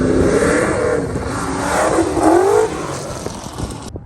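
An engine revs hard and steadily while being warmed up at an indoor live-action motorsport ramp show, a loud continuous roar that rises in pitch midway and then settles, with no talk over it.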